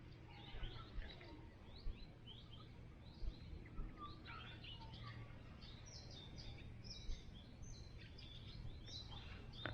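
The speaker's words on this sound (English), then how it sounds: "listen to those birds going off." Several birds chirp and tweet outdoors during redfin fishing in quick, scattered bursts over a low steady background hum, moderately distant, with no talking.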